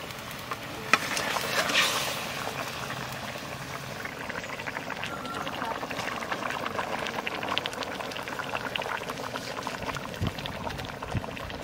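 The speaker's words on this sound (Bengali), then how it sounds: "জলে জাল উঠে গেছে, এইবার মাছ দিয়ে দেবো।" Water boils in a cooking pot with a steady bubbling hiss as fish goes in, a brief splash near the start, then continuous rolling bubbles.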